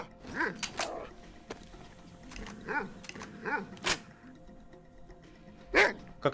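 Barks from a dog in the video game DayZ, several separate sharp yelps and growling barks at irregular intervals, moderately close, between quieter stretches, with no talking.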